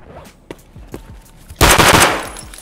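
Gunfire in Escape From Tarkov: several sharp single shots spaced about half a second apart, then a loud dense burst of rapid fire near the end, all close and with no talking.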